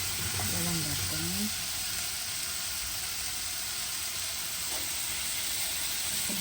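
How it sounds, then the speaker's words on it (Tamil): Tomatoes sautéing in a pan for a Sri Lankan style fish curry made without coconut milk, giving a steady, close hiss and sizzle throughout, with a brief low voice murmuring near the start. "தக்காளி பழம்லாம் வதங்கணும்."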